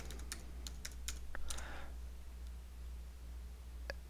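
A password is tapped out on a computer keyboard: a quick burst of faint, crisp key clicks, then a pause and one last keystroke, over a low steady hum in a quiet room.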